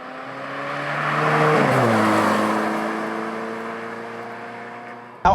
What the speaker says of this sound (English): This car's so loud, not just from the engine, but the road noise, because it's got no sound deadening.